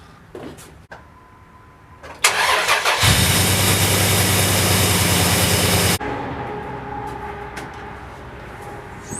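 A 2003 Dodge 1500 pickup's 3.7-liter engine cranks briefly, catches with a loud surge, then drops into a steady, nearby idle that eases slightly toward the end.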